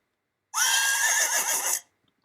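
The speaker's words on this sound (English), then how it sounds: "Horse neighing sound effect." A single long horse neigh from a sound effect rises sharply, then whinnies and trembles for over a second before cutting off into silence.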